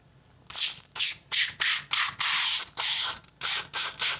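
Hair mousse worked into hair by hand during a relaxing haircut, a close series of soft, rhythmic rubbing and squishing strokes, about nine bursts separated by brief pauses, with no talking.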